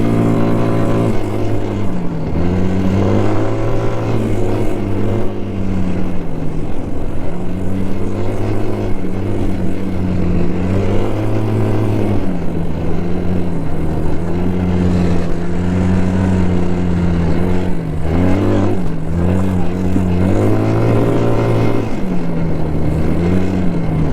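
An all-terrain vehicle drives over a rugged highland trail, its engine droning loud and steady at close range, with the pitch rising and dipping as the throttle changes.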